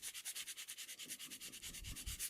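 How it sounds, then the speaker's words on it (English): A medium-grit sanding block rubbed back and forth over a vintage metal patio set, a steady run of quick, evenly spaced rasping strokes up close, each stroke a sharp scratchy swish with no talking. "I have a medium grit sanding block here."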